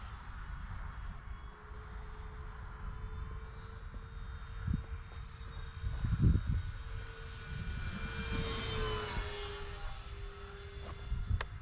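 A radio-controlled P-47 Thunderbolt scale model airplane drones steadily in flight, its engine hum rising and falling slightly as it passes, with a few brief knocks and some wind noise.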